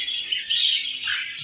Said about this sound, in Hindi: सबसे पहले हम अपने परिंदों से मुलाकात करेंगे, सबसे पहले हम करेंगे मुलाकात मिट्टू से।